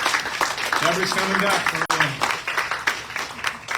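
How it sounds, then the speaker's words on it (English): An audience claps for a workshop graduate, Micheline Thomas, with scattered applause running under a speaker's voice through the moment. "Micheline Thomas, give her a big round of applause."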